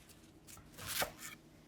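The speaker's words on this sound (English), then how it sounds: "Okay, so first chop up your shallot." A knife cuts a shallot on a cutting board, heard as a few faint, quick strokes that peak in one slightly louder cut, with no talk.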